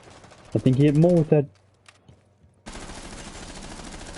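A short burst of automatic gunfire in Rainbow Six Siege, pre-fired at a ladder during a pro-league 1v1, sounds after a brief stretch of commentary, followed by a fainter rattling gunfire texture.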